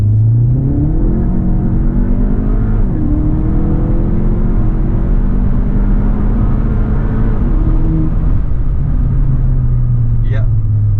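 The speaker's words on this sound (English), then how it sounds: "if I accelerate hard, if I put in more pedal pressure, then yes, you can feel the shift." A Skoda Octavia RS with a Stage 3 TVS gearbox map accelerates hard, heard from inside as a loud droning engine rising in pitch, dipping at a gear shift and climbing again, while people talk over it.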